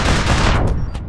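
A single loud shotgun blast in the online shooter APB Reloaded, a heavy close boom that quickly fades into a short ringing tail, with no talk.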